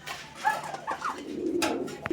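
Madrasi Golla pigeons coo in short throaty bursts close by, several soft calls spaced unevenly with a few brief knocks and rustles between them.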